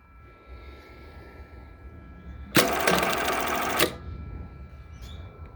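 Close up, an industrial Jack button sewing machine runs one fast burst of a little over a second, sewing a four-hole button, with a quiet workshop hum before and after.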